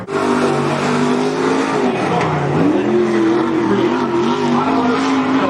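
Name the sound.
race car number 77 lapping Cottage Grove Speedway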